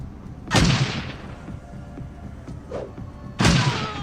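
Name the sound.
grenade explosions in Shadowrun Dragonfall video game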